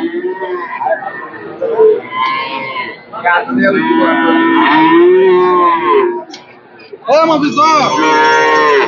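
A calf moos repeatedly, loud and close, over a background of people chattering in a busy cattle market.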